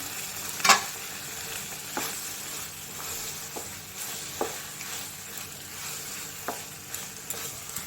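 Paneer and a little water added to a sizzling pan of palak paneer produce a steady frying hiss, a sharp splash-crackle early on, and a few soft scattered clinks of a spoon.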